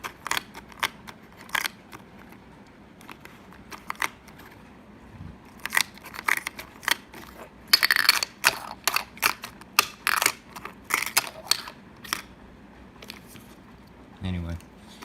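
Mini sport stacking cups clacking together as they are stacked, a series of sharp plastic clicks in irregular bursts, with a few quick clusters, heard close against a quiet background.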